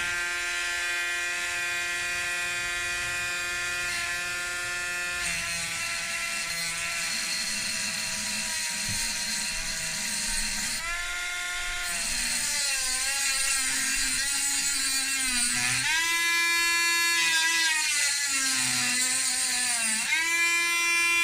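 A small improvised Dremel-style rotary tool spins a grinding disc, giving a continuous high whine that holds steady, then wavers and shifts pitch as the load changes, close and fairly loud throughout with no talking.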